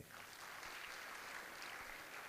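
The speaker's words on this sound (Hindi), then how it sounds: "एक बार ताली बजाओ अपने लिए" Schoolchildren in a classroom clap for themselves, a continuous, fairly faint patter of many small hands heard from a distance.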